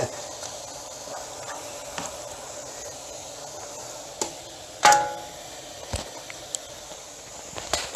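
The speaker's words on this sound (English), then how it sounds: "once you add pasta to this, you just can stir it and you just have to cook it down" Chicken pasta cooks down in a pan with a soft steady hiss while a utensil stirs, giving occasional sharp scrapes and clinks against the pan, close and fairly clear, with no talking.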